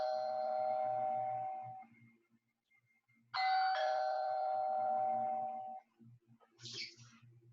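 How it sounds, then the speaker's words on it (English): A doorbell rings out two-tone chimes, a sustained tone that fades, then another ding-dong ringing several seconds, followed by a short higher chime, with faint low background noise. "it's communicating to you that somebody's at your door."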